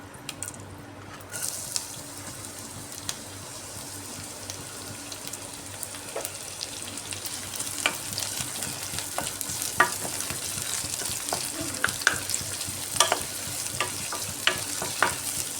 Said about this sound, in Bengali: এবার এই তেলের মধ্যে কুচিয়ে রাখা পেঁয়াজ দিয়ে দিচ্ছি